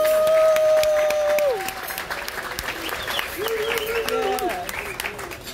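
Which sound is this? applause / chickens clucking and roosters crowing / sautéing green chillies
applause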